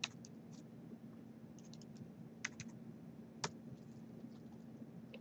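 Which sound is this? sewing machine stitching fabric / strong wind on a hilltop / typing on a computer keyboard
typing on a computer keyboard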